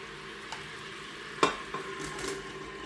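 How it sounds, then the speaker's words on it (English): Coarsely chopped vegetables go into a pot of hot meat for red beans and rice, giving a soft sizzle with a sharp clatter and a few stirring scrapes, nearby and fairly quiet. "Now I'm gonna get these vegetables in there."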